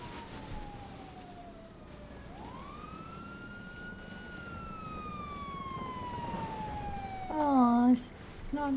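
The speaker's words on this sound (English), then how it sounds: "I hear the sirens." A police siren in GTA NoPixel roleplay wails in a long rising and falling sweep, fairly close and steady, before a short burst of talk near the end.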